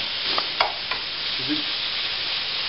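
Chicken sears in a hot saucepan with a little oil, giving a steady, close hiss broken by a few sharp crackles and a brief stirring scrape.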